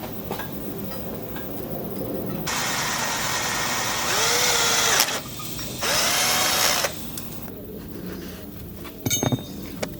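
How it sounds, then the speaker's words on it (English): Power drill boring a small hole for a 2-step install, several short whirring bursts that spin up and stop, with quiet pauses and a brief clatter near the end. "I'm gonna try to drill a hole on this one"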